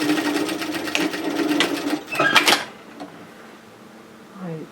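Sewing machine stitching a short 1 cm seam on bib overalls, with back-tacking at both ends: a close, steady whirring run of about two and a half seconds that stops abruptly, followed by quiet handling noises.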